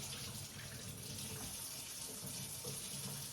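Carrots rinsed under a running kitchen tap, a steady close rush of water splashing into the sink for the whole stretch, with no talk over it.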